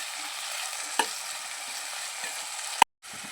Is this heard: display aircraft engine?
no